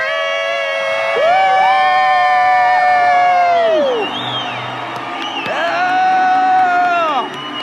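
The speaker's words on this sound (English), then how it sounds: "Let's hear a debt-free scream." A live arena audience at a personal finance event shouts a loud, sustained collective scream and cheer, rising abruptly, breaking off, then surging again near the end, with a voice leading over the crowd.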